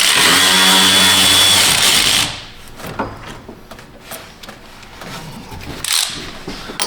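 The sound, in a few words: power tool removing cooling fan bolts on Chrysler 300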